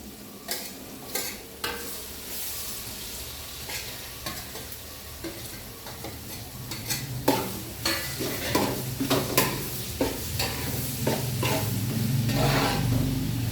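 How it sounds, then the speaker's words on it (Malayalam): Crushed ginger and garlic, tomato, shallots, onion and green chilli sauté in a pan for a chicken curry, sizzling steadily under repeated metallic spoon scrapes that grow busier and louder toward the end, with no talking. "തക്കാളിക്കയും ഇഞ്ചി, വെളുത്തുള്ളി, ചെറിയ ഉള്ളി, സവാള, പച്ചമുളക് ഇതെല്ലാം കൂടെ നന്നായി വഴഞ്ഞ് നല്ലതുപോലെ വരണം"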